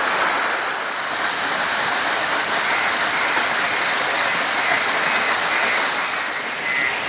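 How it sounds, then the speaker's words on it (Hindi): Mountain waterfall at a village in Jammu and Kashmir, dropping from a great height, giving a loud, steady broadband roar that fills the whole stretch without a break, with no voices. "बहुत ही सुंदर झरना है ये"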